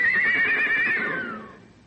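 A single horse at a stable gives a loud, close whinny that wavers and then trails off over about two seconds, with no talk.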